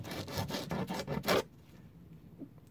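A bank card guitar pick is rubbed against 80 grit sandpaper in about six quick, rasping back-and-forth strokes, close and clear, then quiet.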